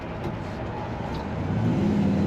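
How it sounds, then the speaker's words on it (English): Exhaust note of a 1968 Ford F100 Custom Cab Shortbox pickup while cruising, a continuous low rumbling engine drone that swells slightly louder near the end. "Lovely sounding truck, has a great exhaust note."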